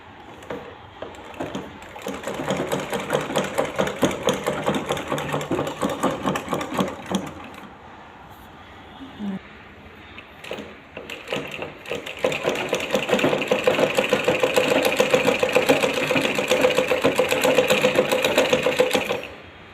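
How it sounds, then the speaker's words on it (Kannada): A tailor's sewing machine stitches in rapid, steady mechanical bursts, stopping briefly and then running again louder and faster, close up with no talking. "ಜಸ್ಟ್ ಇವಾಗ ಒಂದು ಸರಿ ಸ್ಟಿಚ್ ಮಾಡಿ ತೋರಿಸ್ತೀನಿ ನೋಡಿ"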